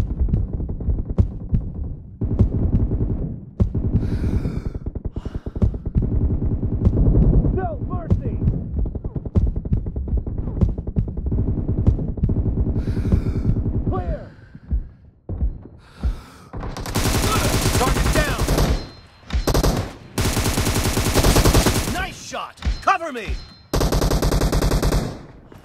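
Sustained automatic fire from an M762 rifle in PUBG Mobile team deathmatch: loud rapid bursts for the first half, then separated sharper bursts broken by short pauses, with voices calling out.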